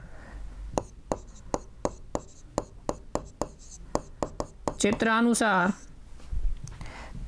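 A pen writes out a Class 10 circle geometry solution in a run of regular, distinct taps and strokes, broken briefly by a short voiced sound before quieter writing resumes.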